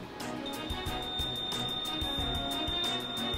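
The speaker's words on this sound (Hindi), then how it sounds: "बिजली के मीटर को हाथ लगाते ही बजेगा अलार्म।" A smart electricity meter's anti-tamper alarm sounds a steady, high-pitched electronic tone that holds without a break while other, duller background noise plays beneath it.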